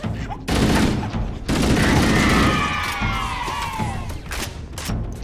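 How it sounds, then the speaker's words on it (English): A grenade blast in the combat game Evolved Combat, loud and broadband, set among heavy bursts of gunfire and crashing game effects with whistling tones sweeping overhead, filling the whole few seconds. "That grenade took forever to explode."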